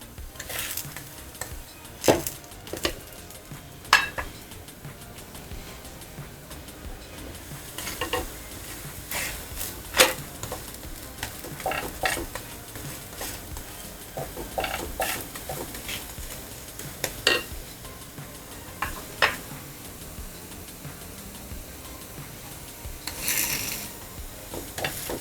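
Methi-onion dhapate flatbread roasting on a hot pan gives a soft, steady crackle broken by scattered light scraping and tapping clicks, with no talking.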